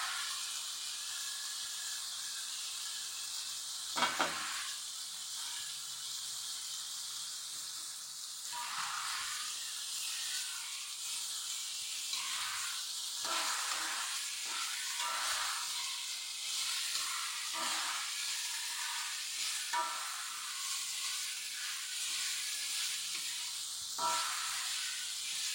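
Jengkol (dogfruit) dropped into a hot pan gives a loud, steady hiss and sizzle of frying that runs unbroken for a long stretch, with occasional clatters of utensils and no talking.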